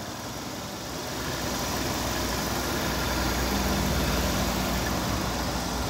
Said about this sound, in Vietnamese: Đó, máy nổ cực êm luôn.